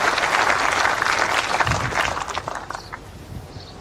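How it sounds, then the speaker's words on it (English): Spectators at a lawn bowls world championship singles final clap for a good first bowl, a warm burst of applause that starts full and tapers gradually into scattered claps. "The crowd applauds."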